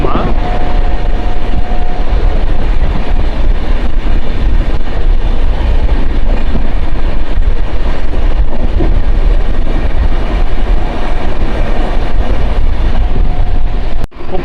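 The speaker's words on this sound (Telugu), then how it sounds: "ఇప్పుడు వెళ్ళింది కదా ఆ ట్రైన్ వచ్చేసరికి పరశురామ్ ఎక్స్ప్రెస్సే." Parasuram Express train passing on a Kerala rail line near Payangadi station, a steady loud rumble of wheels and carriages throughout, ending abruptly.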